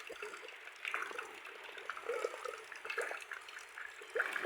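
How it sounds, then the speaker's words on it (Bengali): Rain falls steadily on a green village in rural Bengal, a constant wash of water with scattered drips and splashes close by. "বৃষ্টি হইতেছে"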